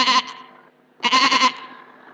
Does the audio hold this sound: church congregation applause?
no